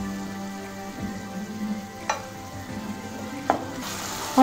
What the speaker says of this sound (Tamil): இந்த தக்காளியெலாம் நல்லா மசிகிற மாதிரி இதை வதக்கிக்கலாம்.